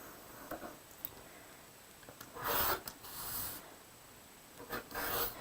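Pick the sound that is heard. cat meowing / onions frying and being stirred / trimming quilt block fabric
trimming quilt block fabric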